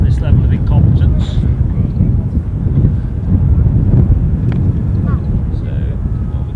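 A KLM Boeing 737 arriving from Warsaw rumbles over Amsterdam Schiphol, a broad, steady airliner roar mixed with gusty wind buffeting the microphone and people chatting nearby.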